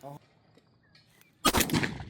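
After a quiet stretch with faint chirps, a single loud shotgun blast at a clay target bursts out and rings off, outdoors at an infantry shooting drill.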